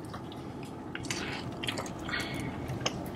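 Someone bites and chews a crunchy Korean corndog close to the mic, with soft moist crunches and squishy chewing spread across a few seconds and no talking.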